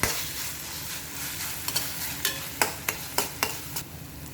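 Crushed chilli thecha sizzles as it is sautéed in oil, a close, continuous frying hiss punctuated by a regular run of spatula scrapes against the pan.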